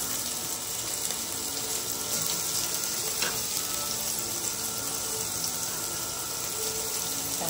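Onion and ginger sauté in a pan for mussel tinola, producing a constant hissing, watery sizzle that stays even and fairly loud for the whole stretch, with no voices.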